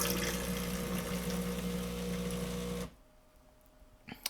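An espresso machine dispenses hot water with a loud pump hum and gushing flow for about three seconds, then stops abruptly, leaving faint drips and a small clink.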